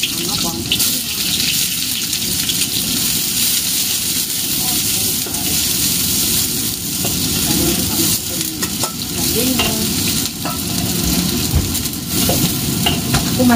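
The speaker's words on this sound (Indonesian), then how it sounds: "Sekarang kita masukin bawang merahnya dulu" Shallots sizzle and crackle steadily in a very hot pan, with stirring scrapes throughout, a loud, close, continuous fry.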